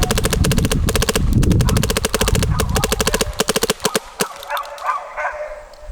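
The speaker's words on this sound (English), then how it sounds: "I'm gonna get a rip at this now, so somebody shoots both of these guns." An Etha 3 and an Empire Axe 2.0 paintball gun fire in fast, rapid strings of sharp pops, loud and close. The bursts then break into a few spaced single shots before quiet.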